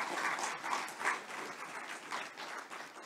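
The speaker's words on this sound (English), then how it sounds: "Aleksander Buczyński, please give a big applause." Audience applause, a dense patter of many hands clapping at moderate volume, steady for a few seconds with slight swells.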